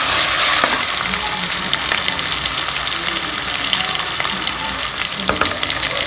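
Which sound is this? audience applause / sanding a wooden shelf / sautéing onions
sautéing onions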